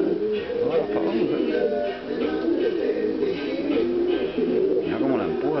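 Pigeons coo in a steady, overlapping chorus at a Spanish-speaking pigeon loft where racing pigeons are handled, the low rolling calls continuous and fairly close throughout.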